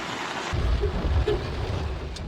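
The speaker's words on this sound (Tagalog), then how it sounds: "Bumuhos din ng malakas na ulan sa Metro Manila." Heavy rain pours down in Metro Manila during a low-pressure storm, a dense loud roar of water with a low rumbling underneath throughout the short stretch.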